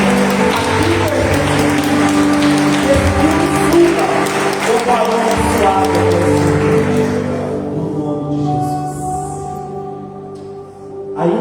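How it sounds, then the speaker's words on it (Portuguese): Church congregation applauding during a celebration service, loud sustained clapping mixed with music and voices that thins out toward the end. "Você pode dar um aplauso ao Senhor?"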